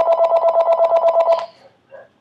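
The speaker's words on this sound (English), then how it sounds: "Mommy, get the phone." Telephone ringing with an incoming call: a loud, close, rapidly pulsing electronic ring chirps about a dozen times in an even rhythm, then stops, followed by a faint short beep.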